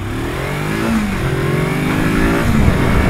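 A Kawasaki Versys X 300 motorcycle accelerates away from a traffic light, its small engine revving and rising in pitch through the gear, loud and close with steady wind rush underneath.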